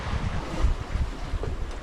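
Strong wind roars and buffets the microphone aboard a sailing boat in a steady low rumble, with faint rushing water beneath it.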